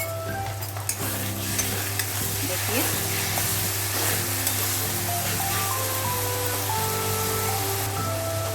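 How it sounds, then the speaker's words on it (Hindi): Ginger garlic paste hits hot oil with onions for spicy achari chicken, giving a steady close sizzle with scraping stir sounds throughout and a brief spoken word near the start. "अभी हम ऐड करेंगे ये अदरक लहसुन का पेस्ट, ये हम डाल देते हैं। ये ऑनियन के साथ में एकदम भुना जाएगा मसाला अच्छी तरह।"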